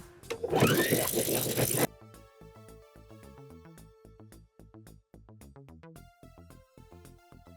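A sewing machine runs a zigzag stitch across stretchy bathing suit fabric, its rapid rhythmic needle pulses steady and close for most of the clip after a brief louder burst of noise at the start.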